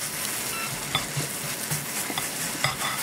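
Kimchi pancake batter with Spam sizzles steadily in a hot frying pan, with occasional utensil scrapes and taps close by and no talking.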